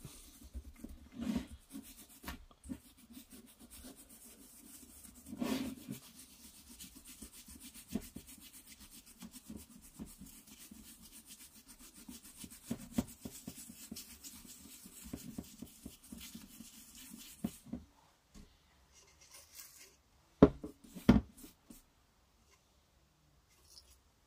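A toothbrush with a little cleaning product scrubs the ignition contact breaker points of a Peugeot 103 moped, giving faint, intermittent scratchy rubbing strokes close to the microphone, with a few sharper knocks near the end.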